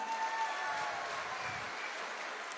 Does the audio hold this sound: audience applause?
yes